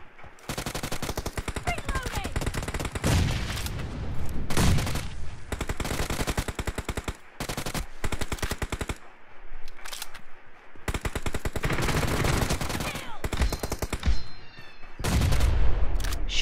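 Groza assault rifle fire in the BGMI battle royale game rattles out in long, loud automatic bursts, nearly continuous, with brief pauses between volleys.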